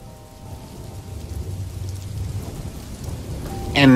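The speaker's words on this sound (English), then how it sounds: "The rain started" Rain with rumbling thunder, a steady wash of falling drops under low rolling rumble that builds gradually, ending in a sudden louder burst.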